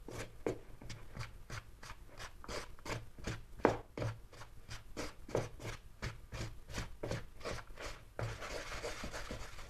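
A spoon stirs and scrapes a shortbread mince pie mixture around a bowl, making a steady rhythm of short rasping strokes, close and fairly quiet.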